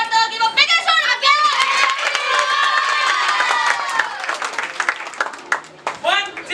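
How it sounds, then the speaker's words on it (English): An audience applauds and cheers with a dense mix of clapping and excited shouting from children and other voices, loud and lively, thinning toward the end as single calls break through. "Give a biggest round of applause"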